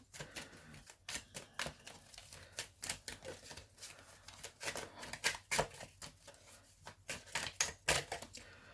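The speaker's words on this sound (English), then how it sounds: "As I'm shuffling" Oracle cards shuffled by hand in a quiet room, a brisk run of soft, papery riffles and flicks repeating in irregular bursts, close and fairly faint, with no talk.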